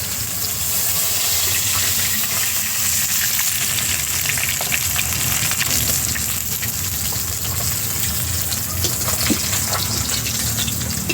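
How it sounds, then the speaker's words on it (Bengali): Folui fish fry in hot oil in a wok, giving a loud, continuous sizzle and crackle close at hand, with faint clinks now and then and no talking. "বাকি মাছগুলোকে আমি এইভাবে ভেজে নেব"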